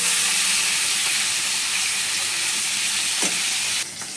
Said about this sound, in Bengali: মাছগুলোকে একটু ভেজে তুলে নেব।